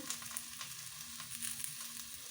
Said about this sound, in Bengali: মাছ তরকারিটা আমি এখন বসাচ্ছি অল্প অল্প মশলা দিয়েই বানাবো আজকে